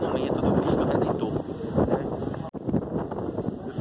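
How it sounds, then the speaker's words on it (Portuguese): Strong wind at the summit of the Christ the Redeemer monument batters the microphone in a continuous loud, rough roar. The gusts hardly ease across the whole stretch, with one brief dropout near the middle. "Eu só sei que aqui tá ventando muito,"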